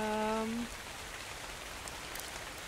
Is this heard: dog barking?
no